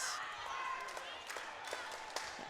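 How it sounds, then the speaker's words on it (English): Crowd noise swells and cheers at a Canadian national dodgeball quarter-final, a faint, diffuse wash with scattered claps and shouts running under a commentator's voice. "So we can hear the crowd starting to cheer now"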